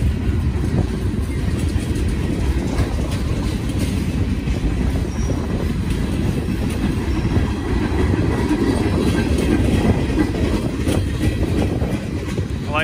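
A long, steady rumble of a heavy freight train rolling past in Peru, Indiana, with continuous rail clatter and occasional metallic squeal from the wheels, loud and close throughout.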